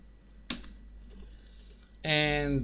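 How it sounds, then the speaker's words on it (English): A few computer keyboard keys pressed while working in Maya 3D animation software, a single sharp click near the start and then a louder burst later, close and fairly faint against a steady hum, with no talking. "I am pressing G in my keyboard"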